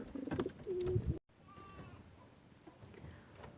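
Pigeons at a dovecote coo softly, starting with a louder burst of low, throaty calls and then trailing off into fainter cooing against quiet background noise.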